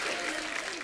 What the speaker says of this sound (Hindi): आप सबकी जोरदार तालियों के बीच